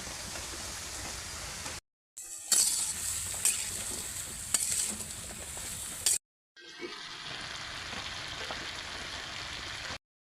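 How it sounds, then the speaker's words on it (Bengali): Teasel gourd slices sizzle in hot oil in a pan with fried onion and chili, a steady close hiss broken by brief silences and stirring scrapes, with no talk. "এখন আমি কাঁকরোলগুলো দিয়ে দিচ্ছি।"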